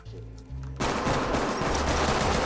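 Gunfire in the tactical shooter game Ready or Not, a sudden loud burst that starts about a third of the way in and keeps up as dense, continuous rapid fire, with low music heard beforehand.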